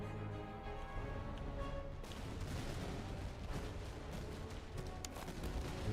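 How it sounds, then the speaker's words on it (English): Musket barrage from fusiliers in the Master of Command strategy game: a dense, continuous crackle of distant gunfire and booms, with sharper volleys from about two seconds onward, busy battlefield rumble throughout and no voices. "Fusiliers are about to open a barrage on you"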